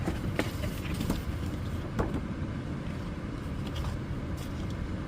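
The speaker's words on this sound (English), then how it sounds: "So I'm just gonna sit here with the car on for a while." Subaru Crosstrek idling with the heater on while parked for solo car camping, a steady low engine rumble filling the whole stretch with faint ticks and shifts above it.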